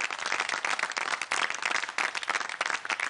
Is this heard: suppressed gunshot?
no